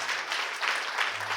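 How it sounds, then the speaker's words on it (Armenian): An audience at a school event applauds, a dense, sustained wash of clapping with gentle swells, heard from the middle of the room with no speech over it. "Ուզում եմ ծափերը ավելի ուժգին"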